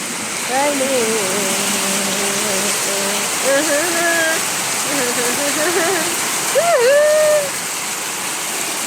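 Steady rushing flood water roars throughout during the Ethiopian rainy season, a dense continuous wash with voices speaking over it.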